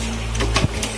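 An old Honda Astrea 800 motorcycle that will not start is kick-started once, giving a single brief mechanical thump and scrape over a steady low hum, close by and with no talk.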